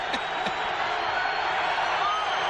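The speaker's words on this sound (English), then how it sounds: "Oh, this crowd is loud" A loud football stadium crowd roars steadily at a 1999 Cleveland at Pittsburgh game, a broad wash of cheering with a couple of whistle-like whoops early on, under a commentator's voice.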